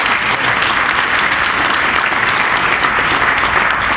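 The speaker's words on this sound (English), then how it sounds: "Yeah, you can applaud for that." A convention panel audience applauds, a dense, loud and steady burst of clapping from a large crowd that fills the whole stretch without pause.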